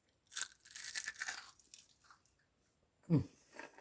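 Someone bites into a crunchy batter-fried onion ring and chews it with several quiet crisp crunches, then a louder bite near the end, in a quiet indoor kitchen.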